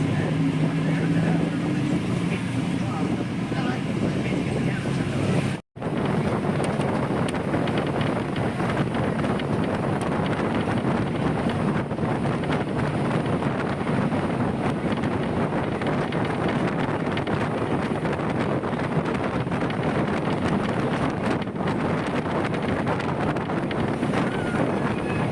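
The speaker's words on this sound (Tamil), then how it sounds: "நம்ம வண்டி சாத்தூர் பைபாஸ்லேருந்து கிளம்பிருச்சுங்க." A crowded TNSTC government bus runs along the highway out of the Sattur bypass on the Tirunelveli–Madurai road, with a steady, loud roar of engine, road and rushing wind that holds evenly throughout, broken once by a brief dropout.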